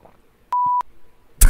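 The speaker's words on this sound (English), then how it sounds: "Just move your mouth and don't say anything when you do the beep." A single steady censor beep, a pure electronic tone lasting about a third of a second, stands out loud over a quiet room before a burst of broadband noise.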